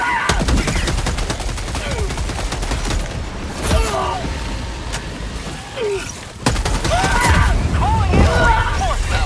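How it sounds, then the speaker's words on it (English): Dense gunfire rattles continuously in Helldivers 2 alongside an orbital strike, with loud bursts, booms and sweeping effects, while voices call out over the battle. "orbital strike. Firing orbital strike."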